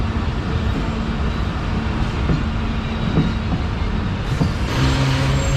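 Allama Iqbal Express rolling slowly through Bin Qasim railway station, heard from on board as a loud, steady rumble with soft rail clicks and a faint squeal toward the end.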